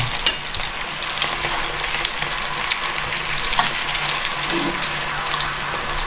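Pork frying in hot oil for school lunch packs, a steady close crackling sizzle with faint stirring and water sounds, no talking.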